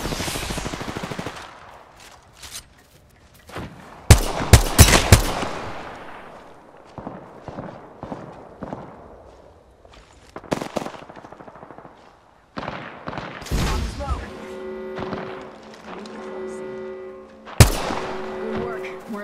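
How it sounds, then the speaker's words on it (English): Mastiff shotgun blasts in the video game Apex Legends, several sharp loud booms separated by pauses, mixed with game effects and mechanical clatter, with a voice talking in places. "Mastiff shotgun here."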